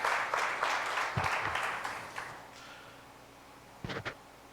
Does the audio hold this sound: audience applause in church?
yes